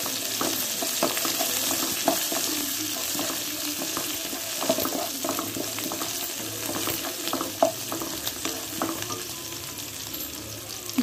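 Bombay rava upma with curry leaves and coriander frying and being stirred in a pan, a steady close sizzle broken by repeated scrapes and clinks of the spoon against the pan.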